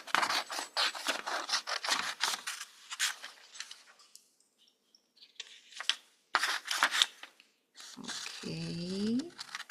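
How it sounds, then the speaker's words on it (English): Scissors snip through paper while cutting out a printed leaf drawing, a run of crisp rhythmic cuts, then a pause and more short snips, with a brief squeaky rubbing near the end. "I have one drawing from the computer right here. I'm going to go ahead and cut it out."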